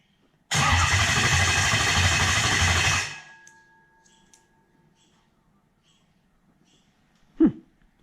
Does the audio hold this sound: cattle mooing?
no